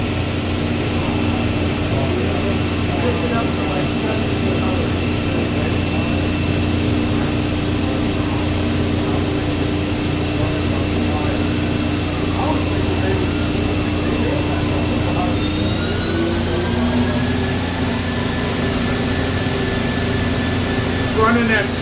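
A Mori Seiki NH-6300DCG II horizontal CNC machining center, new in 2011, runs its spindle at thousands of RPM with a constant loud whine and hum, the pitch stepping up partway through as speed rises.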